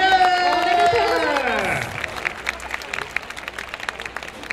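At the award ceremony of the Fukukoi Asia Festival 2022, a brief musical fanfare with falling tones gives way to a crowd's lively applause, with scattered sharp claps and some cheering that continue after the music ends.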